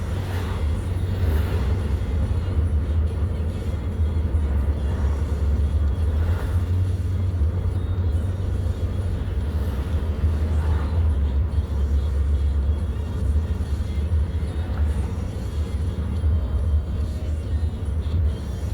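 Road traffic passing on a Colorado trail, a constant heavy low rumble of vehicles with occasional swells as cars go by, steady and fairly loud throughout without speech.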